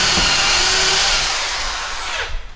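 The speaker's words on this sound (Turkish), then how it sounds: "İlk önce eksantrik yerini deliyoruz." A power drill bores a minifix cam hole into a furniture panel using a drilling jig, a loud close whirring whine held steady for about two seconds before spinning down.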